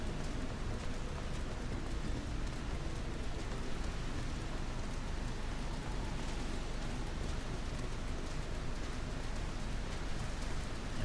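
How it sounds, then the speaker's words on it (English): Steady, dense rain pours continuously in a scene from the video game Final Fantasy XIV: Stormblood, a broad even hiss with no pauses and no voices. "At least the rain's warm."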